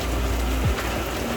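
Heavy October cloudburst on the Croatian coast: a dense, steady roar of pouring rain hammering down without a break, loud and close, with a faint low rumble passing briefly midway and no voices.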